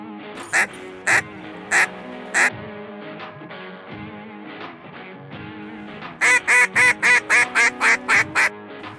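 Hand-blown goose and duck calls used by hunters over decoys, sharp repeated honks and quacks, a few spaced single notes followed by a rapid loud string of calls near the end, up close with no speech.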